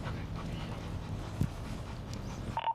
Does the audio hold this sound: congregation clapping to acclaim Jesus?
no